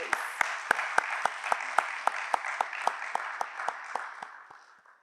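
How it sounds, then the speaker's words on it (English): A studio audience applauds the judges at a televised national championship debate, a crisp run of claps that starts fairly loud and gradually thins and fades out over about five seconds. "Let's hear a round of applause for our judges."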